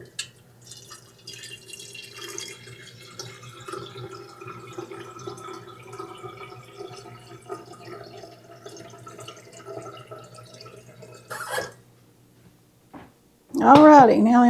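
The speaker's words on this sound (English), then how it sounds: "let me get some water in the tea kettle going" Tap water runs steadily into a tea kettle for a stove, with someone talking over the trickle throughout and a brief louder clatter near the end.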